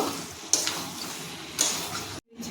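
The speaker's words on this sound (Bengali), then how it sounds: "এরপর দিয়ে দিচ্ছি ভেজে রাখা লোটে মাছ মশলা মাছের সঙ্গে খুব ভালো করে মিশিয়ে নেব" A utensil stirs fried loitta fish into a poppy-seed masala in a pan over a soft sizzle, with two distinct scraping strokes about a second apart before a brief cutoff.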